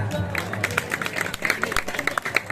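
A crowd at a Balinese comedy show claps in quick, fairly rhythmic bursts, mixed with voices and crowd noise.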